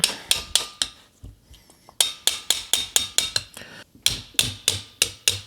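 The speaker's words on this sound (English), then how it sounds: "Got a hammer here. Might as well just use it." A hammer strikes a Mikuni 40PHH carburetor part from a 1972 Toyota Celica in rapid, sharp, ringing blows, series of about five or six hits in bursts with brief pauses, close and loud.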